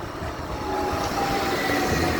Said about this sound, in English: That tram's full.